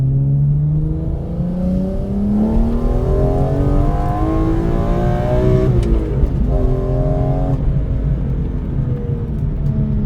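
A BMW E46 M3 engine revs loudly and steadily, the pitch climbing and dipping through several rising sweeps, close and continuous.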